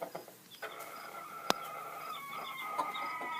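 Chickens cluck and call inside a chicken coop in West Virginia, a close, steady run of fowl sounds with one sharp louder squawk partway through.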